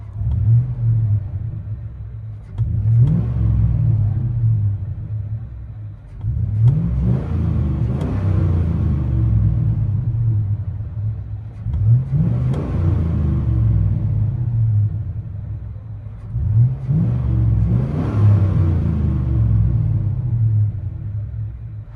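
Inside the cab, a stock 2005 GMC Sierra 5.3L V8 with a Flowmaster Super 50 exhaust revs about four times, each rise a deep, throaty roar that swells and falls back to a low, rumbling idle.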